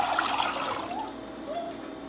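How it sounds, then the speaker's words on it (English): Water poured from a container into a cooking pot while making spaghetti, a steady close splashing trickle lasting a couple of seconds with a faint voice in the background. "Pour the water into the pot."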